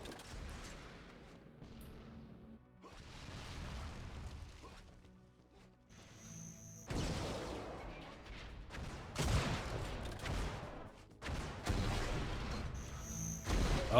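Rocket launcher blasts and explosions in an Unreal Tournament competitive match, several loud bursts in the second half over a busy game soundscape, with commentators talking throughout.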